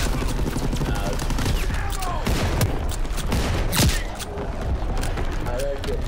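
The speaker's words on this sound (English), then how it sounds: "Incoming enemy artillery. Get to cover." Incoming enemy artillery in Call of Duty WWII multiplayer on the Ardennes Forest map: a continuous, loud barrage of booms and rattling gunfire with a sharp impact near the middle, while players talk over the din.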